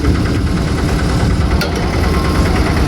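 Royal Enfield Bullet motorcycle idling close by, a loud, steady, continuous engine throb with a fine mechanical rattle and no talk over it.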